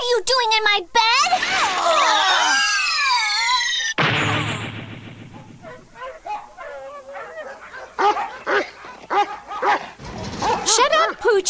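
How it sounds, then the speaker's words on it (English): Dogs in an animated cartoon bark and yip loudly, with whimpers mixed in, while dubbed voices talk and music plays over and between the barks. "Those damn dogs. They won't stop barking."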